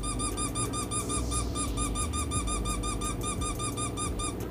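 Novelty squeaky sound effect from a phone keyboard app, repeating rapidly and steadily like a toy squeak with each keypress, loud and continuous throughout.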